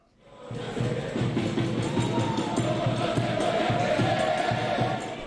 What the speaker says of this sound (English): a small but colourful and noisy crowd gathered at Auckland Airport this morning to welcome their heroes